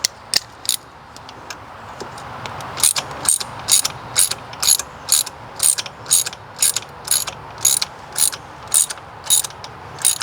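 A hand ratchet clicks in steady, evenly spaced bursts while a fitting is tightened during a compression test on a 2001 Jeep Cherokee XJ, close and crisp with no talking.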